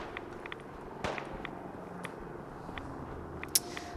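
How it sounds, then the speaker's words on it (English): Scattered sharp gunshot cracks in Fallout 4, one louder report early and another near the end, over a steady low background hum. "Ah, gunfire. Those are the sounds I'm used to hearing"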